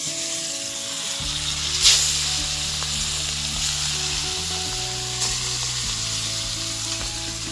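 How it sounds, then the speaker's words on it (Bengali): Pieces of a 3 kg boal fish fry in hot oil, producing a steady, close, crackling sizzle throughout, with a couple of brief louder spits and a low hum in the background. "এগুলো আমি ভেজে নেব"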